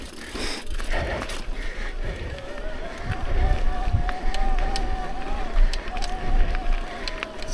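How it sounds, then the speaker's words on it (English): A noisy mountain bike rattles and clatters over a freshened-up trail in Bentonville, Arkansas, with rushing wind noise, bumps and a thin whining tone running through the ride, close to the microphone. "Sorry about the bike noise, it's a little noisy today."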